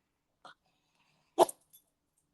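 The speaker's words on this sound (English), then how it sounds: "That was my dog sneezing." A single sharp, close sneeze-like burst from a dog, preceded by a faint short snort, then quiet.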